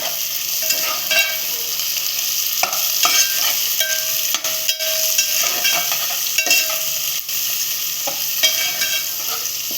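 Chopped green chillies fry in hot oil with onion for spicy prawn rice. A loud, continuous sizzle runs throughout, with clattering stirs of a spoon against the pan and no voices.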